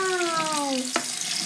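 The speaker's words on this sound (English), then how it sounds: "Water's still going." Water runs steadily from a bathroom tap, a continuous close hiss that lasts throughout, with a falling tonal whine at the start and a brief knock near the middle.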